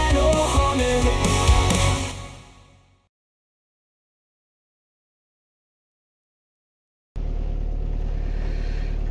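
A car engine cranks and settles into a steady idle, starting suddenly after a loud burst of other noise and a stretch of silence, then holding an even hum close by.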